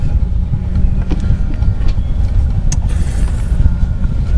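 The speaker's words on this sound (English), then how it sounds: "Oh, there's a car coming." A car approaches as a loud, steady, low engine rumble that carries through the whole stretch without a clear rise or pass, with no voices over it.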